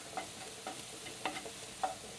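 Onions sautéing in a pan over moderate heat, a soft continuous sizzle broken by a few light scraping stirs and a sharper clatter at the very end.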